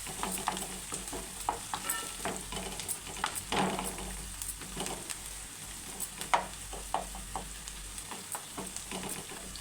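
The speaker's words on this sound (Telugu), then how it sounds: "అల్లం వెల్లుల్లి పేస్ట్ పచ్చివాసన పోయిన దాకా అయితే మనము వేయించుకోవాలి" Onions with ginger garlic paste and turmeric frying in a pan for a brinjal and tomato curry, a moderate sizzle broken by frequent scraping stirs and light clatter of a spoon, fairly close, with no one talking.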